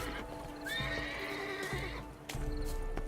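A horse in The Witcher III whinnies long and loud up close with hooves clip-clopping around it, and a second brief neigh follows near the end, no talk over it.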